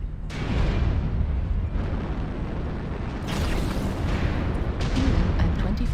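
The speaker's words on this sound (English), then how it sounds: "Airstrike online." Airstrike explosions in a combat video game sound as loud, rumbling booms that roll one into another, with sharper bursts cracking through partway along and near the end, with no voices.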